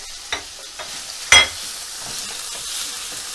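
A steady, soft hiss of chopped chicken frying in hot oil, with a sharp clatter of a pan or utensil near the middle and a faint earlier tap.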